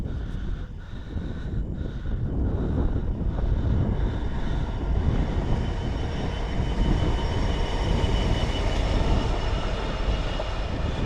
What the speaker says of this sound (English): And we've got the train.